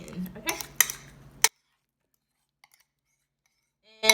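A spoon scrapes and clinks against a bowl while mashed banana is mixed into butter-sugar batter, a few quick knocks then silence, with one more clatter at the very end.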